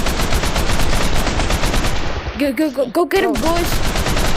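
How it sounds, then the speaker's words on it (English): Rapid automatic AK rifle fire in a video game, a loud, continuous stream of shots, with voices talking over it partway through. "Who's using the AK? Wait, is it the AK? Oh, that's the AK."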